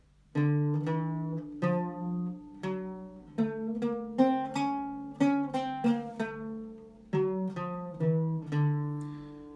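A solo melody in maqam Saba, somber in character, played on a sustained, harmonically rich instrument as a string of separate, gliding notes, close and fairly loud with no talk.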